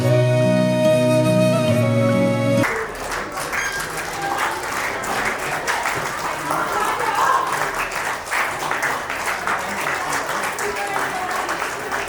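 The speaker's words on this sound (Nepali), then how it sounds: "हामी सबैजनाले अझै पनि ताली नै बजाइराखौँ" An audience at a wedding applauds in a sustained, dense burst of clapping after a voice on a microphone stops, continuing steadily.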